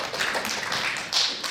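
Audience applause at a panel discussion forum after a presentation, a brief, fairly quiet burst of many hands clapping with a soft surge near the end.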